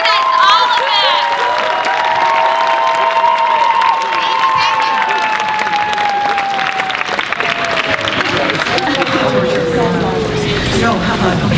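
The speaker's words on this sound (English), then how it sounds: "Can we get a round of applause for Kathy?" A crowd at an anime convention cosplay masquerade applauds and cheers loudly and continuously, with whoops and shouts over the clapping and a voice on a microphone carrying over the noise.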